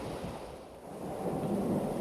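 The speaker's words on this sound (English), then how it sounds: "Through the haze and chill of this vicious storm" Heavy rain pours in a steady hiss during a violent storm, with a deep rolling rumble of thunder swelling toward the end; near a stretch of sand and dark stone, with no voices.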